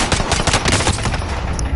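Rapid automatic gunfire in the battle royale shooter Warzone, a dense burst of close shots rattling without pause through the whole short stretch.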